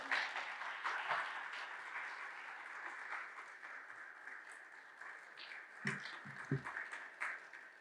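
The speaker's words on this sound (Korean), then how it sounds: "우리 목사님 앞에 나오실 때에 우리 박수로 함께 환영하도록 하겠습니다." A Sunday worship congregation applauds to welcome a pastor forward to preach, a fairly quiet, steady patter of clapping in a church hall, with a few louder individual claps and some faint shuffling near the end.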